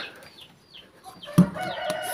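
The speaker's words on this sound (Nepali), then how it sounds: "यो चाहिँ भाले, यो नै हाम्रै भाले हो है" A rooster calling in a rural yard, a brief clucking crow rising partway through with faint background farm noise, fairly close and moderately loud.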